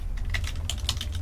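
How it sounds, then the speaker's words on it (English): Quick typing on a computer keyboard: a rapid, uneven run of close, crisp key clicks over a low background hum. "I'll type it into the chat."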